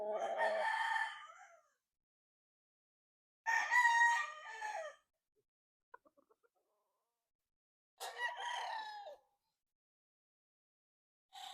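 Boston Roundhead gamecock rooster, about 15 to 16 months old, crowing three times in loud, close calls with silent gaps between them and a few faint clicks in between.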